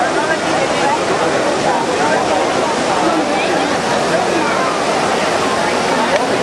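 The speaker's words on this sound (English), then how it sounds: "This is the Trevi Fountain." Water splashing and rushing at the Trevi Fountain in Rome, a steady loud broadband wash of falling water filling the whole clip, with crowd chatter blended underneath.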